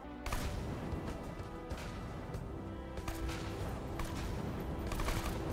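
Rapid gunfire in the Borderlands 2 video game, dense bursts of shots and impacts going off continuously at close range, loud and busy with no talking over it.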